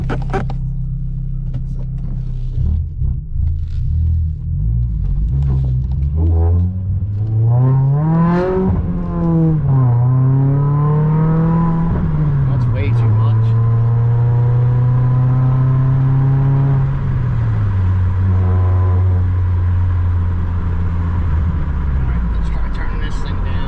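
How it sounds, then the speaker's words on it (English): A Dodge Dart fitted with a Pedal Commander throttle controller turned all the way up, heard from inside as the engine revs up and down through several rises before settling to a steady cruise hum, loud and close. "Let's go for a quick drive and see how this feels"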